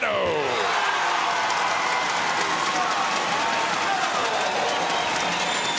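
Basketball arena crowd cheering loudly during a FIBA Women's AmeriCup 2019 game between the Dominican Republic and Puerto Rico, a steady roar with sneaker squeaks early on, under an excited play-by-play commentator.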